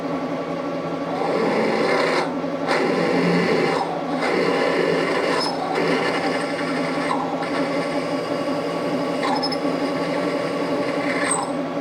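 A bit spins at about 654 rpm cutting scrap metal in a machine, a steady grinding whir with a rasping tone that pulses with small regular breaks.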